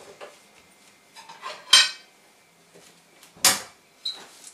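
A ceramic plate is set down and handled in a kitchen, with a few sharp clinks and knocks separated by quiet kitchen rustling.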